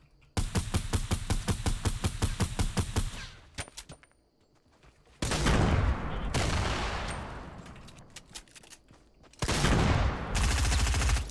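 Loud bursts of rapid gunfire and sniper shots in the video game Fortnite, coming in three dense volleys separated by a short quiet gap, with sharp repeated cracks.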